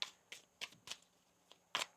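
Tarot cards being shuffled, a quiet series of about seven short crisp riffling flicks in quick, uneven succession, close and faint.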